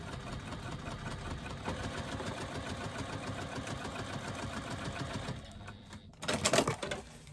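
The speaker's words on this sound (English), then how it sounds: "It doesn't have to be perfect stitching because it's going to be coming out" A sewing machine stitches a seam in foam-backed material with a rapid, steady mechanical chatter for about five seconds, then stops, followed by a brief rustle of handling, close and fairly quiet.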